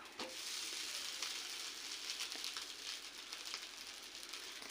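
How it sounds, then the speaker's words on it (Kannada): A hotel-style crispy dosa roasting on a hot pan gives a steady crackling sizzle with small pops throughout, close and fairly soft. "ಒಂದು ಸೈಡೇ ರೋಸ್ಟ್ ಮಾಡ್ಕೊತೀನಿ ಅಂದರೆ ಅದು ನಿಮ್ಮ ಇಷ್ಟ ಇನ್ನೊಂದು ಸೈಡು ರೋಸ್ಟ್ ಮಾಡಿದ್ರೆ ಟೇಸ್ಟ್ ಚೆನ್ನಾಗಿರುತ್ತೆ"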